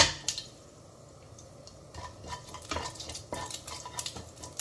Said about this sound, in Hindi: ये पंचफूरन अच्छी तरह से क्रैकल हो गए हैं